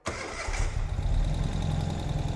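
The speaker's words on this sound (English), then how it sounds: "We already have the ignition on. Starting the bike." A 2020 Ural Gear Up Arctic Dawn sidecar motorcycle engine cranks and catches right away, then settles into a steady, close, rumbling idle with no talk over it.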